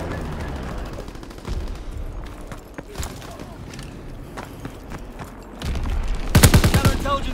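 Strafing run from a fighter aircraft in Call of Duty, a dense burst of rapid machine-gun fire erupting loud near the end after a stretch of distant gunfire and voices.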